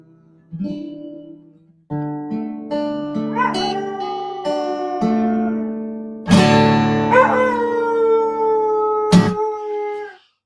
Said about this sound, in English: Oh, good Lord, that dog's singing good tonight